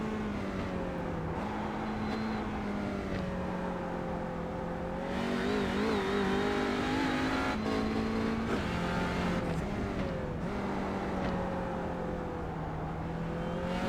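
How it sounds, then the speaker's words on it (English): TCR touring race cars lap Imola in a sim racing video game, engines droning and whining steadily with rising revs and gear-change dips, several cars audible at once at moderate level. "Are we getting enough car noise?"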